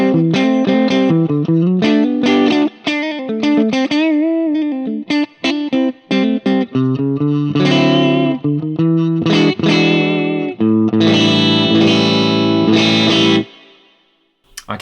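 An electric guitar played through a Quad Cortex modeler with reverb and distortion rings out in distorted single notes, bends and sustained chords, loud and close, with reverb tails fading at the end.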